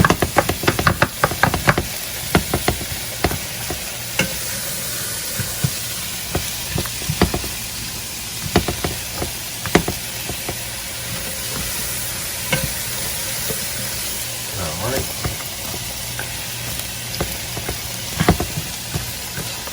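Onions fry in a pan while being stirred, giving a steady sizzling hiss broken by frequent sharp scraping and knocking strokes, close and fairly loud, with no talk.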